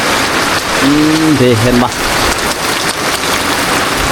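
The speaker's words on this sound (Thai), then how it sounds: "ฝนตกแล้วพี่น้องเอ้ย" Rain falling in a Thai village at Ban Don Sa, a steady broadband hiss throughout, with someone briefly talking over it partway through.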